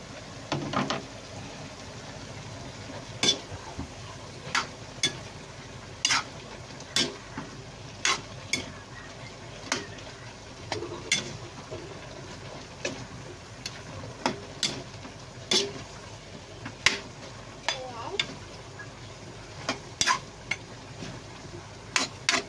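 A spoon stirs a pot of simmering broccoli and cauliflower stew, with repeated scraping and clinking strokes at an irregular pace over a soft, steady bubbling background.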